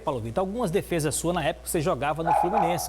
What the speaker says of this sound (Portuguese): tem um cachorro latindo aí, né?